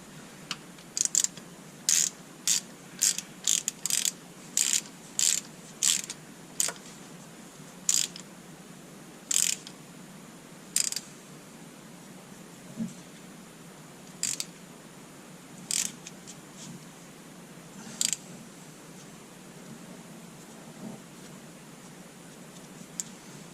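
A hand ratchet clicks in short bursts while tightening the bottom fill plug on a 2017 Nissan Pathfinder during a transfer case and rear differential fluid change, the sharp pawl ticks close and irregular over a quiet background.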